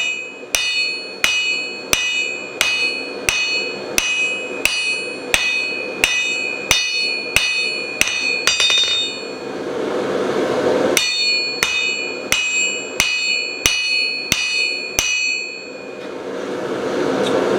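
A hammer forges a cold chisel from coil spring steel on an anvil, ringing out in evenly spaced, loud metallic blows about every 0.7 seconds, a short pause, then a second run of strikes.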